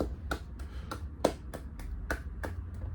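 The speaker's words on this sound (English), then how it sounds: "He claps like that." One person claps hands in a distinctive, light way: about ten quick, crisp, evenly spaced claps in close succession, near and fairly soft, with no talking.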